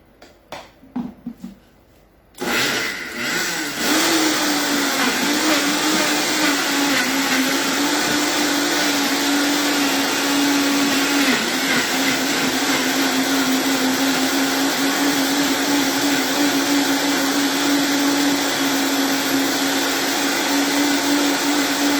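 A loud, steady motorized whir of a juicer grinding watermelon, starting after a few brief clicks and knocks, then droning continuously without pause.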